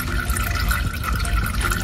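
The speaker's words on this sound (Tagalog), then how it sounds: "hintayin lang natin yan tulo ng mga oil dyan sa ano, may oil filter" Motor oil drips and trickles from the oil filter area of a Ford Fiesta during a DIY oil change, a steady close liquid dribble with no talk over it.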